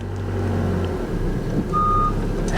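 A 2020 Honda Civic gives off a steady, repeating reversing beep over a low idling engine hum, heard close by in an outdoor vehicle lot.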